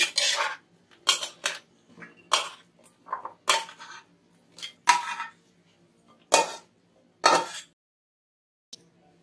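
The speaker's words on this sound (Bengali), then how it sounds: "এবার একটা বাটিতে সবজি ঢেলে নিচ্ছি।" Cooked vegetarian vegetables seasoned with cumin are scooped into a bowl in a series of short metallic scrapes and clinks of a utensil against the pot, separated by brief pauses.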